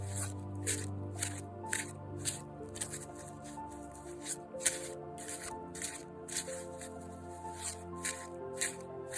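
A deck of intuitive oracle cards is shuffled by hand, making soft papery flicks and riffles in a steady, fast rhythm that runs throughout, close by, over faint sustained background music.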